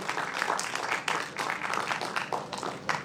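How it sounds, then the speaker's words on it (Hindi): Applause rises from an audience at an award ceremony for inspiring young people, many hands clapping in a dense, steady patter that holds moderately loud for a few seconds with no talk over it. "ज़रा जोरदार तालियों से अपने अंदर की ऊर्जा को वापस जागृत कर लीजिए"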